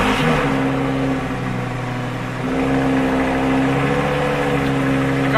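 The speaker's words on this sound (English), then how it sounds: "The car is basically so loud when it starts up initially" Lamborghini engine cold-starting in winter, a loud, steady high-idle roar with strong low harmonic drone that dips briefly and then swells back up, close and continuous with no talking.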